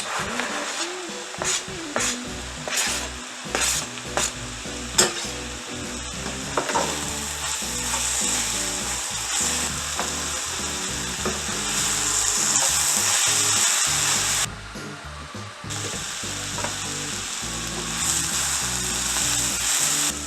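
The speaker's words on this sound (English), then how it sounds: "we're getting a little browning going on with our vegetables now" Vegetables sizzling and browning in a hot pan for baked American goulash bolognese make a steady, close frying hiss, broken early on by a run of sharp scraping stir strokes and utensil knocks.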